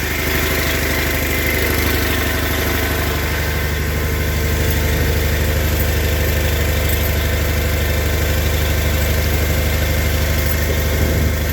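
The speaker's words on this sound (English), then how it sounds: "The one that just started, it's got 540 Schaefer's diesel oil." An Onan or Perkins engine idles steadily after a cold start, running on 5-40 diesel oil, with a loud, constant mechanical drone and vibration that goes on alone without a break.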